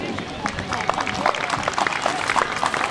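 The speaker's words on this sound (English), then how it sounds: "give Beth a nice big round of applause" An audience at a charity campaign kickoff event gives a round of applause, a dense, steady patter of many hands clapping at moderate distance with crowd murmur mixed in.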